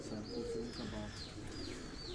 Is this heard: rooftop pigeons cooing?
yes